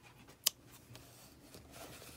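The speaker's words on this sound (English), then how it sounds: "take your scissors and go ahead and give it a little snip" A single quick snip of scissors cutting crochet yarn at the top of a finished beanie, a sharp faint click over quiet room tone with no speech.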